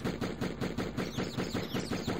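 Machine gun fire in the Die Hard Trilogy video game, a steady rapid rattle of loud, evenly spaced bursts running throughout with no talking.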